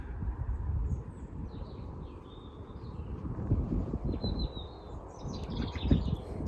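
Faint fieldfare calls chirp intermittently over a low rumbling background, some notes short and scattered, others slightly longer.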